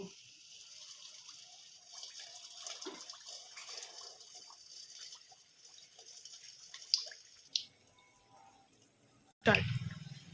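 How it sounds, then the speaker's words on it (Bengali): A raw-egg snack being fried in hot oil in a kadai: a faint, steady hiss runs for most of the span, then a sudden loud burst of sizzling near the end as the food hits the oil. "তেলটা আমার গরম হয়ে গেছে, আমি এবার এটা ভেজে নেব।"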